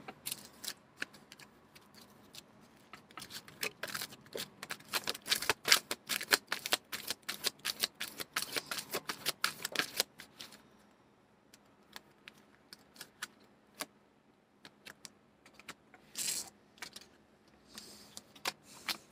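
A deck of tarot cards is shuffled close up in rapid riffling bursts for about ten seconds, followed by quieter scattered taps and card handling, with no talk.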